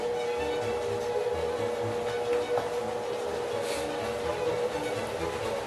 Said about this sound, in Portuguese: É minha máquina de lavar que está funcionando, esse barulho.